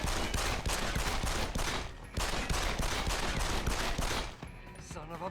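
Rapid enemy gunfire in the Deus Ex: Human Revolution video game, a dense continuous fusillade of repeated shots loud and close, with a brief lull midway and a short dip near the end.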